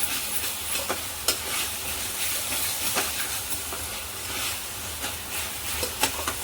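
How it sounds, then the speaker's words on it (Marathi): Masala frying in oil for a sev tomato bhaji sizzles with a steady hiss, broken by repeated scraping stirs in the pan; no one speaks. "हा मसाला जेवढा तुम्ही भू चांगला तेलावर फ्राय केला ना तेवढी ही भाजी खूप चविष्ट लागते"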